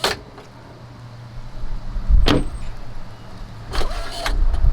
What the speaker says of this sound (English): looking for electronic running boards since they conveniently drop down when you need them